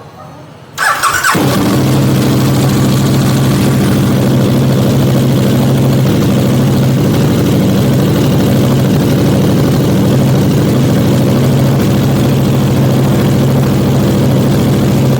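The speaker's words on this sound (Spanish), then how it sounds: "dejar calentar el motor de 2 a 3 minutos" A KTM 1290R motorcycle engine starts abruptly and settles into a loud, steady warm-up idle, a constant close rumble with no speech.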